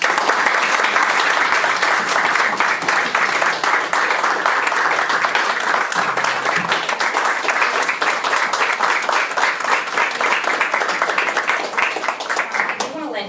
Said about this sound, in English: So first, I'd like to give her a round of applause, both a round of applause.